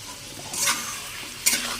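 Mutton being stir-fried with ginger-garlic paste and ground cumin, coriander, chilli and Kashmiri chilli in a pan: a steady sizzle with two sharp bursts of scraping and stirring, close and alone.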